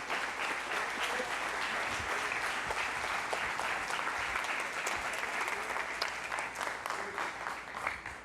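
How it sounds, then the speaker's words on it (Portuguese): A congregation at a church youth vigil breaks into steady, continuous applause, many hands clapping at moderate distance with a few faint voices mixed in. "Pode aplaudir, quem quiser, fica à vontade."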